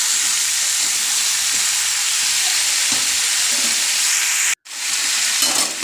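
Pumpkin curry vegetables fry in a pan, a loud, even hiss of sizzling oil running steadily, briefly cut off near the end before resuming.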